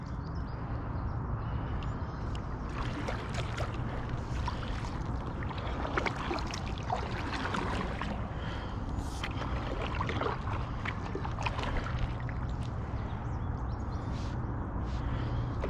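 Stand-up paddleboard strokes dip and swish through a shallow pond while fishing, soft irregular splashes and drips close by over a quiet outdoor background, with no speech.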